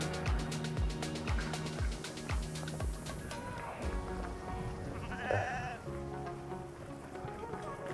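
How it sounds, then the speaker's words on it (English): A flock of beef sheep and lambs being moved back into a field, bleating repeatedly and loudly in overlapping calls, close by and continuous. "this first group here that's going to come past back into the field is the beef flock slash lambs that I want to sell"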